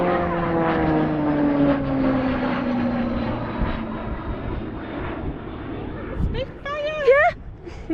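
A Supermarine Spitfire passes overhead on a hillside trail near Ingleborough, its propeller engine a steady droning roar that slowly falls in pitch as it moves away, with people talking over it toward the end.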